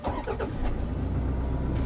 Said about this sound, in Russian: Вот заведем мотор.